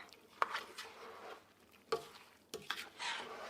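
Fresh salsa ingredients being stirred together in a bowl, giving soft wet scraping and clinking sounds with a few sharper knocks of the utensil against the side, close and fairly quiet.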